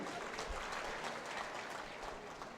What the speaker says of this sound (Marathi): टाळ्या मारा